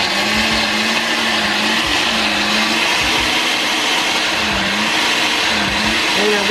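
A kitchen blender chops raisins and currants for a fruit cake, a loud steady whirring motor that runs continuously with small dips in pitch as the blades catch the fruit.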